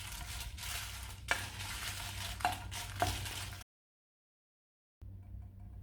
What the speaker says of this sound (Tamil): மிளகாயை சேர்த்து வறுத்து எடுத்துக்கலாம்.